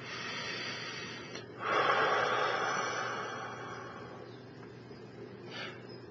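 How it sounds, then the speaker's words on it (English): A single deep inhaled breath, a long airy rush drawn in close to the mic that swells then slowly fades, followed by a brief softer breath near the end. "Deep breath in."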